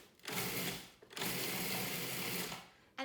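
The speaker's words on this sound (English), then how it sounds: "then I'm gonna start my food processor" A food processor pulses a fish slider mixture in two sustained bursts of motor whir, split by a brief pause, then cuts off near the end; the sound is moderately quiet and nobody speaks.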